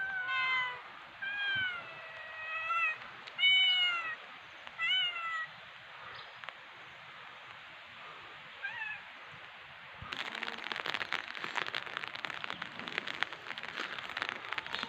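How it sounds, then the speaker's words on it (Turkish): A cat meows several times in a row, high and wavering, followed by a soft patter of light rain. "Kedicik."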